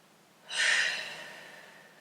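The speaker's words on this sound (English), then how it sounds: "You may notice that I'm breathing out through the mouth, and that is to release heat." A single long exhale through the mouth during a yoga session, a soft airy breath that swells quickly and then fades slowly, close and alone in a quiet room.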